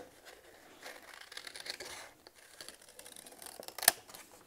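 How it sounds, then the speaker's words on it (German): Scissors snip through paper while a cloud stencil is cut out for a rainbow birthday card, giving soft irregular crunching and rustling strokes close by, ending with one sharp click. "So, und dann schneiden wir hier aus."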